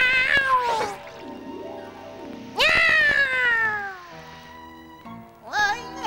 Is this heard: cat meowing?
yes